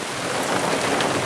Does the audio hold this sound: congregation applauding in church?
no